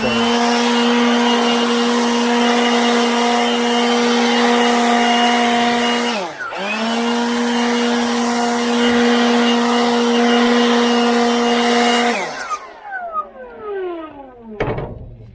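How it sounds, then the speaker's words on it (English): A Milwaukee M18 battery-powered leaf blower whines loud and close, with a steady high tone and a brief dip in the middle before the motor spins up again, then winds down and rattles to a stop near the end. "So where would I use this Milwaukee M18 blower, in what sort of situations?"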